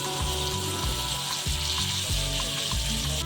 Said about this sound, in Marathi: आता कढईला थोडेसे तेल सोडू आणि दुसरी बाजूही छान खरपूस भाजून घेऊ